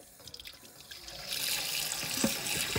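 Kitchen tap running water to wash chicken for Jamaican curry, a quiet trickle that swells into a strong, steady rushing stream splashing into a sink.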